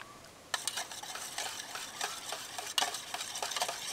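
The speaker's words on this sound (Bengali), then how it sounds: "এবার এগুলোকে সবগুলোকে খুব ভালো করে মিশিয়ে নেব।" A spoon stirs Amrapali mango pulp into milk for homemade mango ice cream, making rapid, rhythmic clinking and scraping strokes against the bowl that run steadily, with a sharper knock partway through.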